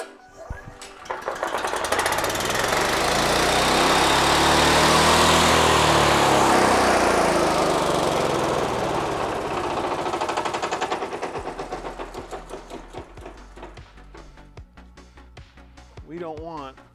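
Lawnmower engine mated to a Suzuki Samurai transmission, pull-started with no battery, catches and runs with a loud buzzing drone that swells then gradually fades and sputters near the end, close up.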